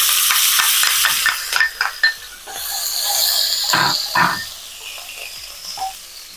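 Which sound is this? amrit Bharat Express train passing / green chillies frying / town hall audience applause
green chillies frying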